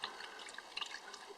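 Faint trickling and dripping of coolant draining slowly from the radiator of a 2007 Subaru Impreza 2.5 through a hose, soft irregular liquid patter close by.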